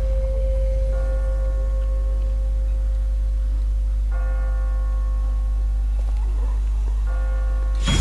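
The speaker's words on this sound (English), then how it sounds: "Who's ringing the bell?" A bell rings in The Walking Dead video game, slow tolls with long ringing tones spaced a few seconds apart over a steady low drone, ending in a sudden louder burst.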